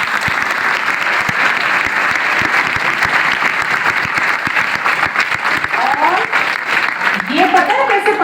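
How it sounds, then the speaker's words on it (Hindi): Loud, sustained clapping from a large crowd at a scholarship seminar, with a few cheers and voices rising toward the end. "जोरदार तालियां बजाओ"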